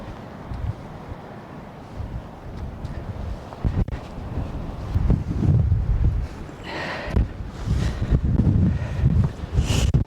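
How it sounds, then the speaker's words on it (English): Strong gusts on a sandy coast buffet a microphone with deep rumbling bursts that grow heavier and more frequent as the wind picks up. "that wind is definitely getting stronger all of a sudden"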